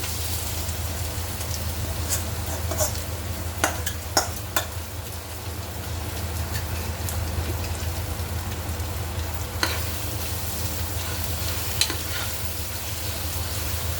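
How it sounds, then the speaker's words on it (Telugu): Boiled prawns sizzle in a pan of fried ginger garlic paste for a Telugu-style prawn biryani, a steady crackling fry with occasional scraping stirs of a spoon, close and moderately loud. "ఇప్పుడు ఉడకబెట్టుకున్న రొయ్యలు వేసుకుందాం."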